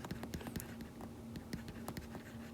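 Pen or pencil writing out a discriminant for a math problem, a steady soft scratching with short strokes and taps, close and quiet, with no talk.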